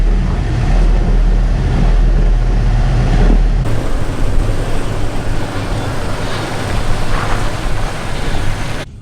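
A Toyota creeps over rough off-road terrain at Cleghorn on crawl control, a loud continuous low engine drone and rumble with crunching and bumping underneath, no talking.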